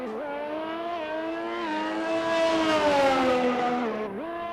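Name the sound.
Ferrari race car driving in racing video game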